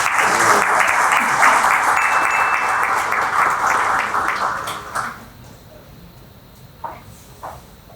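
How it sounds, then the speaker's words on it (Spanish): Audience applause at a book launch event at the Supreme Court of Justice in the Dominican Republic. A dense, loud wash of clapping lasts about five seconds, then stops abruptly, leaving a few isolated claps in a quiet room. "Recibimos con su aplauso al doctor Germán Miranda Villalona."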